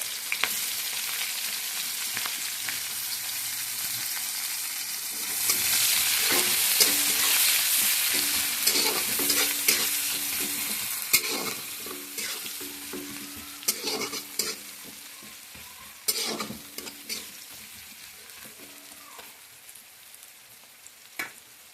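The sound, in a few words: onions frying and being stirred for fish head curry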